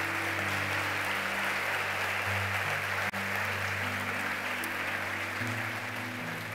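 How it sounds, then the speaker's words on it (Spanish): A church congregation applauds its mothers during a Spanish-language sermon, a steady wash of clapping under sustained organ-like chords that shift pitch now and then. "Dele un aplauso a nuestras madres."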